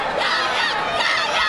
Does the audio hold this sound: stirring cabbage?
no